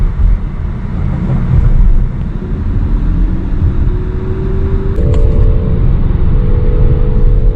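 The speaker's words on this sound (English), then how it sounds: "Every time you accelerate, you hear a whining sound." Electric 2023 Nissan Ariya accelerating, heard from inside as a loud continuous road and motor rumble with a faint rising whine that steps up in pitch partway through. No one speaks.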